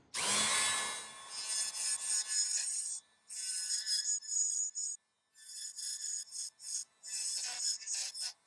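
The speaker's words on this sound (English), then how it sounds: "Let's put a bulber on my Dremel." Dremel rotary tool with a bulb-shaped bit grinding into a ring, a high whine running in short bursts separated by brief pauses, close and fairly quiet.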